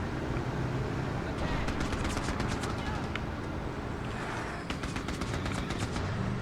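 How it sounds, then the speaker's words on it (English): Artillery fire in the game Mercenaries: Playground of Destruction, set in North Korea, sounds as a rapid series of sharp blasts and crackling shots in two bursts over a rumbling background. "That's some accurate artillery."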